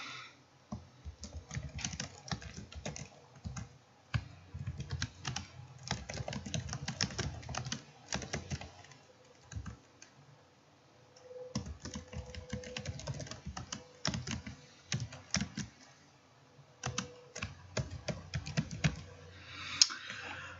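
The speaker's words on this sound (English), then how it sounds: "So let me go ahead and type that in here." Close computer keyboard typing in quick bursts of clicking keystrokes separated by short pauses, as a return address is entered, with no talking.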